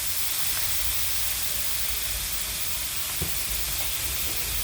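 Pork stir-frying in a wok with dark soy sauce, fish sauce and oyster sauce for a holy basil dish with long beans, giving a steady, close hiss and sizzle that holds evenly throughout, with one brief clink of the utensil.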